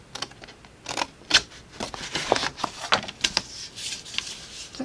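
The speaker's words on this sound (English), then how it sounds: "We're going to cut right up into that score line." Scissors make a series of short, crisp snips through cardstock, cutting up to a score line, close and fairly quiet, with irregular gaps and light paper rustle between cuts.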